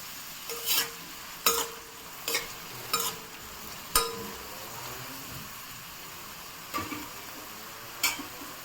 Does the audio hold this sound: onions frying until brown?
yes